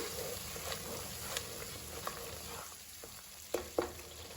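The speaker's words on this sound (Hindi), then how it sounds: "साथ ही में हम इसके अंदर डाल देते हैं ये प्याज। इसको हमने क्रश करके रखा था फ्राई करने के बाद। तो ये भी अच्छे से भून जाएगी।" Crushed fried onions sizzle in a masala for Old Delhi style mutton pasanda, a steady close frying hiss with occasional spoon scrapes and stirring knocks, no talking.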